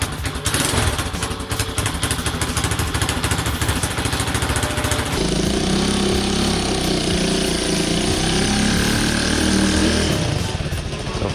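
A Honda CT70 minibike engine running after a clutch repair, loud and close, with a rapid chugging idle that shifts midway into a rougher, heavier running tone, continuous throughout.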